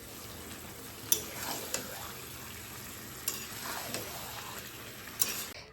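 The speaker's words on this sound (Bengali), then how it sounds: "এখন মাংসটা ততক্ষণ পর্যন্ত কষাবো যতক্ষণ না তেল বেরোয় আমি মাংসটা একটু কষাচ্ছি" Mutton being stir-fried in oil in a pan, a steady close sizzle with a few sharp clinks of a spatula against the pan spaced through it, no talk.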